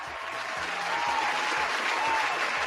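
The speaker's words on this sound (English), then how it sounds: "Give that man a round of applause" Applause for a quiz winner: a steady wash of clapping from a small crowd, sustained for a few seconds with a faint voice underneath.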